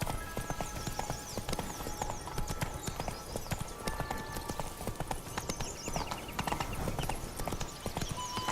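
Hooves of Roach, the horse in The Witcher 3, clip-clop at a steady trot, a brisk even rhythm of close hoofbeats over a busy ambient game soundscape.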